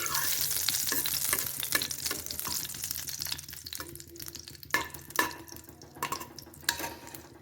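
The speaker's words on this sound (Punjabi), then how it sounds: "ਇਸ ਵਿੱਚ ਆਪਾਂ ਜੋ ਆਪਾਂ ਕ੍ਰਸ਼ ਕੀਤਾ ਸੀ ਉਸ ਨੂੰ ਤੜਕਾ ਲਗਾਵਾਂਗੇ" Crushed spices, cumin and carom seeds, tempering in melted ghee give a steady, close sizzle and crackle with a few light stirring clicks and small pops. No one talks.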